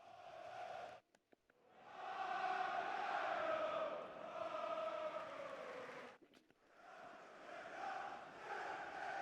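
A large football video game crowd chants and roars in a broad, sustained swell, briefly cutting out twice before the chanting resumes at full volume.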